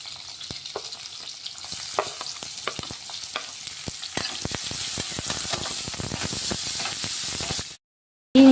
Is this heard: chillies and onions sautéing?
yes